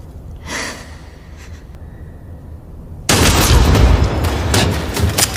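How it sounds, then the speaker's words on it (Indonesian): A gunshot in a tense film scene bursts in suddenly and loudly after a quieter stretch of breathing and faint sounds, followed by a noisy roar that lasts about two seconds. "muncullah satu tembakan dari Choi yang membuat Asih bersembunyi"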